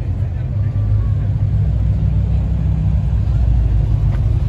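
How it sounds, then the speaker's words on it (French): Porsche 911 Turbo S of the 992 generation passing at a car-spotting gathering, a loud steady low engine rumble sustained throughout with no clear rise or fade. "Regardez la petite Porsche 911 Turbo S, type"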